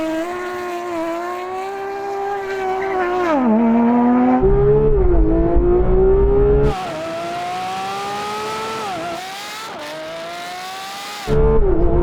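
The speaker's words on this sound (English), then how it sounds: "It's just lighting these bloody tyres up, man." Porsche 911 GT3 RS with PDK gearbox at a drag race launch, engine revving hard and rising through gears with tyres spinning, loud and continuous for about twelve seconds.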